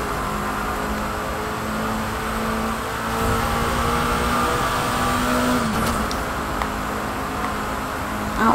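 A Ferrari FXXK in the racing game The Crew 2 drives along with a steady engine drone that rises into revving toward the end, loud and continuous with no talk over it.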